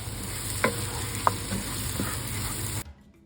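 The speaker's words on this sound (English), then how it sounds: "Stir it in with the onions for about a minute until those flavors really start to bloom." An African spice blend stirred into onions frying in a pot for braised beef shank, a soft steady sizzle with a few light utensil clicks against the pot, close, before a sudden quiet at the end.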